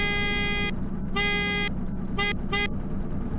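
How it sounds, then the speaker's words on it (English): Horn of a 2017 Stuttgart Jogger 2500 truck in the Greenville game, sounded in four blasts, two long and two short, loud and close over a steady engine rumble. "Here's what its horn sounds like."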